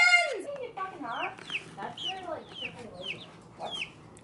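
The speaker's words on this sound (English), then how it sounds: "Look at all them chickens. Look at all these chickens." Chickens clucking nearby in a run of short, rising and falling calls, busy and fairly close, with no talk over them.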